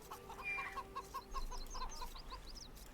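Chickens clucking in the video game Age of Empires on an Arabia map, a few faint repeated clucks and short chirpy calls over a low background hum.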